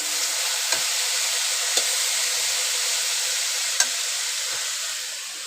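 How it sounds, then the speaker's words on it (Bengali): Leafy greens (shak) frying in a pan, a steady bright sizzle and hiss with a few brief stirring scrapes, no talk. "এখানে হচ্ছে শাক ভাজা"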